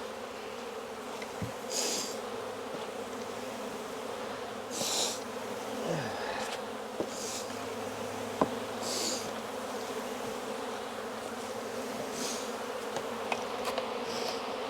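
A steady, dense hum of many buzzing honey bees in mini mating nucs fills the air, with occasional soft clicks and brief higher whirs of individual insects passing nearby.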